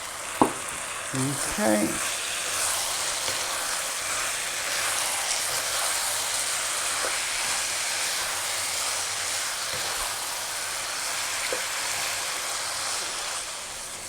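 Tomatoes, asparagus and chilies frying in a pan for a stuffed Thai omelette with pork, a steady loud sizzle and hiss with a few clinks of utensils and a brief spoken word near the start.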